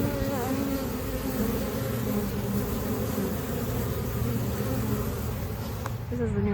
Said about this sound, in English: there's tons of activity in this hive